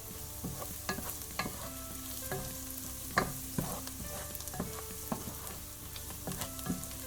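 Garlic cloves added to a pot of nearly cooked vegetables for a low-carb broccoli soup sizzle and fry, with frequent stirring clinks and scrapes over a steady background hiss.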